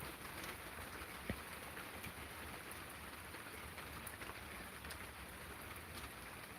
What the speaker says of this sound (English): I do like the sound of the rain falling though.